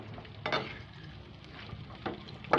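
Papaya pieces being stirred in a cooking pot for chicken tinola, giving a soft sizzle with a few brief scraping stirs, quiet and close, with no talking.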